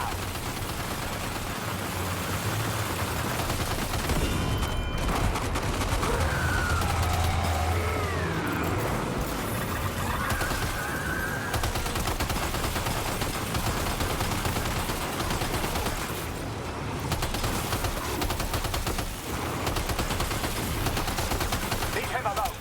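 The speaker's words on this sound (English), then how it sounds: "Opening fire now." Extended exchange of gunfire in Death Stranding 2, with dense crackling volleys and rattling bursts running nearly nonstop, loud throughout, over a low rumble and occasional mechanical whooshes.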